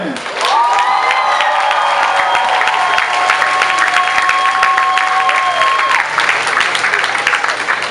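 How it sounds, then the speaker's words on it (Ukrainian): Loud, dense applause with some cheering from a large crowd at an outdoor squat record event in Cherkasy, Ukraine, clapping steady throughout with voices rising briefly over it. "Подякуємо оплесками."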